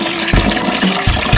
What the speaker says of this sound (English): Now we're adding boiling water.